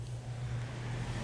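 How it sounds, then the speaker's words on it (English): An electric shop fan running on high outdoors during classic truck repair work, giving a steady, continuous whooshing hum with a low motor drone, loud and unbroken throughout with no talking. "plug in the fan because we're gonna be blowing some dust around out here"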